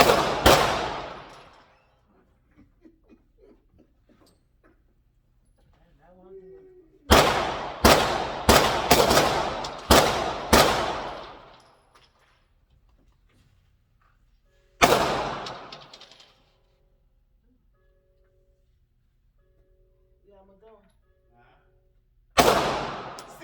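Gunshots fired at a shooting range during a firearm safety course, with one loud booming shot, then a rapid burst of five, then two more single shots spaced widely apart, each with a long echoing tail and faint talk in between.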